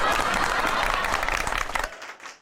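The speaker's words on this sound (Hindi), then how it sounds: "तालियां तालियां।" Loud audience applause at a Republic Day stage event on a sitcom, a thick wash of clapping that holds steady, then thins out and fades near the end.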